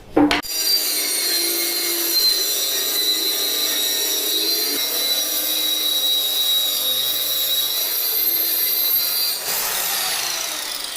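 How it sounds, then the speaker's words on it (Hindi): A power saw cuts plywood lengthwise for a double door, making a loud continuous whining grind with a sharp start and a shift in pitch near the end; no one speaks. "अब इसकी कटिंग लंबाई के एरिया में होनी है"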